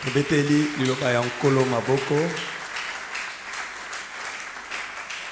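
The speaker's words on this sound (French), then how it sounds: "Acclamons la parole du Seigneur." A church congregation breaks into applause after a scripture reading, a few seconds of clapping following sung or chanted voices and fading under room ambience.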